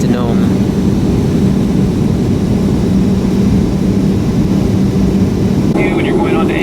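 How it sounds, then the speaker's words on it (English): Alaska Airlines passenger jet taxiing at Nome after landing: a loud, steady engine roar and broadband rumble fill the cabin throughout, with a brief higher whine near the end and no clear talk over it. "We'll try to turn the aircraft around as quickly as possible"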